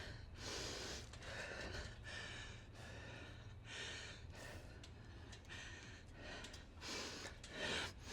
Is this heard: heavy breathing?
yes